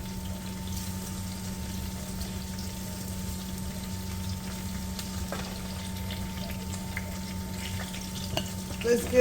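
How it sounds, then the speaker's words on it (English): Food sautés in a pan for Jamaican stew chicken gizzards. A soft, steady sizzle and hiss runs throughout at low volume, with a few faint clinks and stirring knocks toward the end. "Saute this about a minute."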